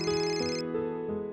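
A telephone ringtone plays a bright electronic melody of steady, stepping tones at moderate volume, with no one speaking over it.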